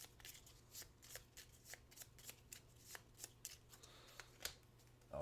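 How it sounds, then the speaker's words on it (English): Cards being shuffled in a steady series of quick riffles and soft snaps, close up and fairly quiet. "Let's shuffle these together."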